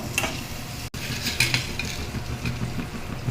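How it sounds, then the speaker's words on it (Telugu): Eggplant and onion frying in a pan for an egg and drumstick curry, a steady close sizzle broken by a brief cut, with scattered scrapes and clinks of a utensil stirring against the pan. "వంకాయ ఆనియన్ కూడా చూడండి ఎలాగా ఫ్రై అయ్యిందో"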